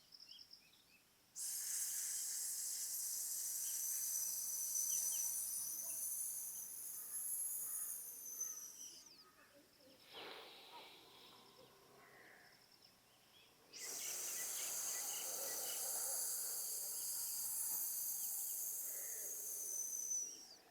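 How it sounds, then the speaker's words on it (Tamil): Two long, loud hissing exhalations during a breathing exercise, each forced steadily through the lips for several seconds, separated by a quieter pause with a soft breath between them. "இப்படி சவுண்ட் மூலியமாக நீங்கள் மூச்சை ரிலீஸ் பண்ணும்போது"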